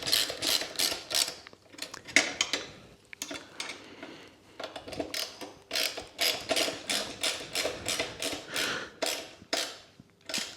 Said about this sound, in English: So I'll tighten these 2 button screws up.